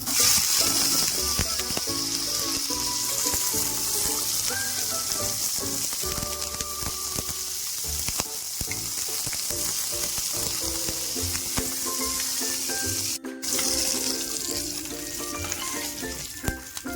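Green chillies fry in hot oil in a pan, giving a steady, dense sizzle and crackle throughout. Occasional stirring scrapes and small pops come through near and loud, with no talk.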